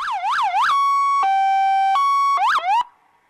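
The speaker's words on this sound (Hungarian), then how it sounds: "a gyerekek pedig tolongtak szirénázni" A police car siren set off by children at a car-free day event in Hévíz wails loudly up and down, then holds steady alternating tones before wailing again and cutting off abruptly.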